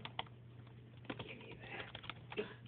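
Typing on a tablet keyboard while playing Crazy Craft, heard as soft irregular taps and clicks over a low steady hum, faint and close, with no voices.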